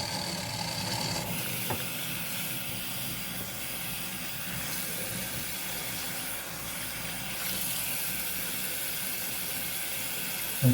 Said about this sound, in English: And now we're going to rinse.